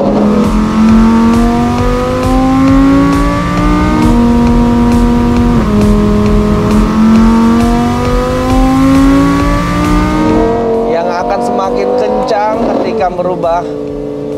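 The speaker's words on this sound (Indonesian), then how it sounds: "mendengarkan suara tenaga V10 dari Lamborghini Huracan STO" Lamborghini Huracan STO V10 engine revving loud and close, a sustained high-pitched wail that rises and dips before dropping into crackling pops near the end.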